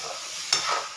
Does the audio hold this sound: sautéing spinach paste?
yes